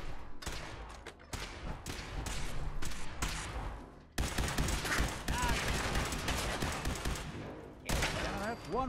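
Rapid bursts of gunfire strike a Protectron Watcher robot in Fallout 4, dense volleys with brief pauses between them, loud and close over game ambience.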